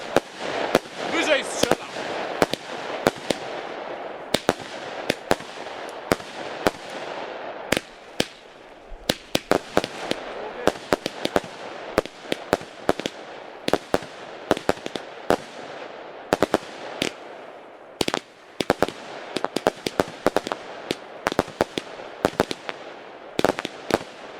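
Lidl Kilovka and Gigantica firework cakes fire a rapid, loud barrage of sharp cracks and bangs in irregular bursts lasting over twenty seconds, with people talking between shots.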